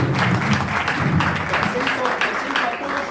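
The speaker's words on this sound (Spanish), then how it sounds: "Un aplauso." An audience at a university event applauds after a dean is introduced, a moderate round of clapping with voices mixing in underneath.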